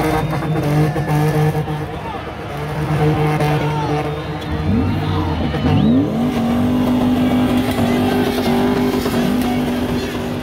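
A car's engine revs hard and repeatedly during a spinning run at a wheelz event, the pitch climbing and falling in loud surges, with crowd noise underneath.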